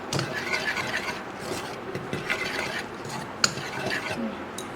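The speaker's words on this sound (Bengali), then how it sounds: "এটা আমি ভালো করে মিশিয়ে নেব।" Spiced gram-flour batter with Kashmiri chilli powder and baking soda is mixed by hand in a bowl, producing continuous close rubbing, scraping and soft squelching with a few sharper knocks against the bowl, with no talking.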